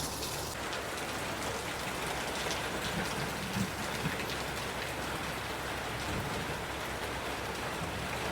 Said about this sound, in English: Slow and steady rain.